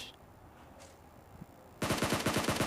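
Automatic gunfire rings out in the PUBG Mobile video game during a fight in Pochinki, a quiet lull giving way to a loud rapid burst of about eight to ten close shots near the end.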